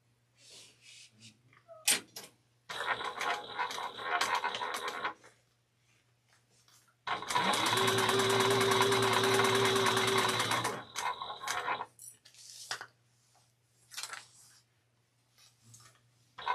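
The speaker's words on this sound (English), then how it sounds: "when we take this to our machine, we're going to sew 1/8 of an inch going down, across," A sewing machine stitches a backpack seam in two bursts: a shorter run and then a longer, steady, close whirring run, with faint handling clicks and shuffles between and after.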